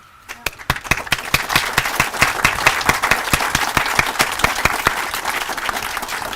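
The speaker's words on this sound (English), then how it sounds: "I ask that the audience please give them a round of applause" A crowd at a naturalization ceremony at Eisenhower National Historic Site breaks into applause, with a few sharp, close claps standing out over a continuous wash of clapping that holds strong throughout.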